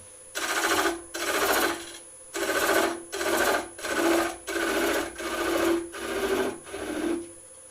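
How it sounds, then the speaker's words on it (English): A parting tool cuts into a wooden Easter egg spinning on a lathe, giving eight rhythmic bursts of rasping, scraping noise over a steady motor hum, each pass about half a second long with brief gaps between. "we can just grab the parting tool and follow that down my side of the line"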